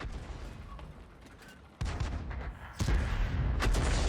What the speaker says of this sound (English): The Black Prince takes a blind shot.